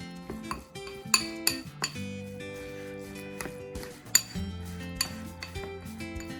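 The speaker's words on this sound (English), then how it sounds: "And then I'm going to stir it in there so that the salt is evenly mixed" A spoon stirs salt into homemade goat cheese in a dish. Irregular clinks and scrapes against the bowl come close by and fairly quiet, with sharper knocks every second or so.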